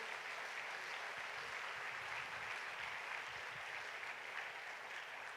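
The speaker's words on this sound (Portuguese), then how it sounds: "pode aplaudir o Senhor" Steady, dense applause from a church congregation fills the sanctuary, an even wash of many hands clapping without a break and with no voices standing out.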